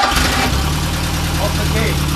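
Engine of a 1969 Ford Capri catches and runs with a dense, loud, rumbling churn throughout, close to the microphone, while a voice talks over it.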